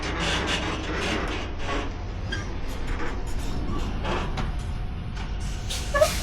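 A fifth wheel semi truck backs up and jackknifes, giving a steady low mechanical rumble with faint rubbing and hiss and a brief sharper squeak near the end, heard from some distance.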